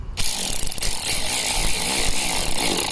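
A power tool buzzes continuously up close while driving screws during servicing of an Audi A4 B8, a loud, rough whirring that starts abruptly and holds steady with slight rattling variations.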